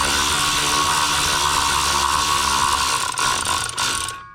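A hand tool loosens spring tension on a Kawasaki clutch fitted with aftermarket clutch weights, giving a steady close mechanical whirring drone that runs for several seconds before stopping.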